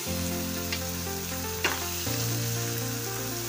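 Tomato paste mixed with Kashmiri chili powder fries in a pan for a Bengali-style tangra fish dish. It gives a continuous close sizzle with stirring and a faint steady hum underneath, and no voices.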